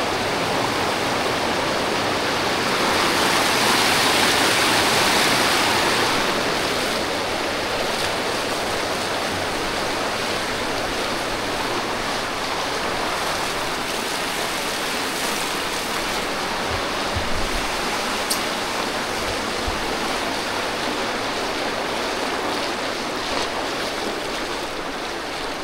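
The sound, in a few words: Polluru waterfall stream flowing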